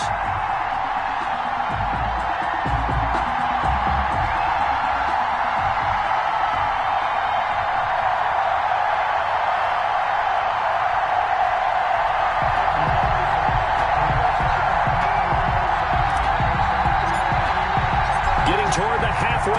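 A crowd in an EA Sports NFL game between the Kansas City Chiefs and the Miami Dolphins makes a continuous, loud stadium roar with a broad cheering wash throughout, while game commentary talks over it.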